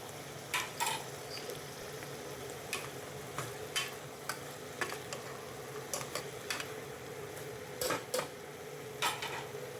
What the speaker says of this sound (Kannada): ಇದು ಕೂಡ ಹಾಕ್ಕೊಂಡು ಚೆನ್ನಾಗಿ ಮಿಕ್ಸ್ ಮಾಡೋಣ.